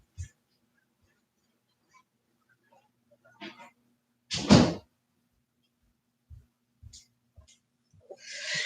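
A door being closed indoors, a single loud thud in the middle, preceded and followed by faint footsteps and small knocks, with a low hum underneath.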